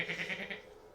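A single goat gives a short, wavering bleat with a pulsing, tremulous quality, faint and alone.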